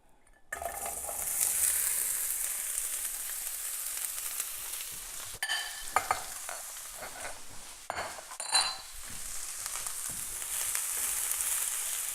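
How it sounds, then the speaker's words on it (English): Vegetables sauté in coconut oil in a pan, giving a steady, close sizzle throughout with a few brief clinks and stirring scrapes of a utensil against the pan and no talk. "So we're just going to let this saute and reduce down probably for about 4 to 5 minutes"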